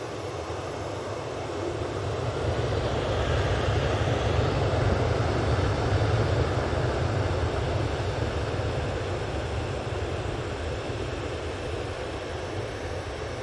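A TUI airliner departing Manchester Airport, a steady broadband jet roar with heavy low rumble that swells slightly mid-way and holds at moderate distance, with no voices.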